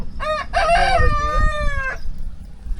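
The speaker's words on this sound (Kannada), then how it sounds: "ಇದು ನಮ್ಮ ನಾಟಿ ಕೋಳಿ ಐತಿ" Native country chickens on a farm, with a rooster's loud, close crow rising and falling in harmonic-rich bursts over about two seconds, while lower clucking and farmyard rustle continue underneath.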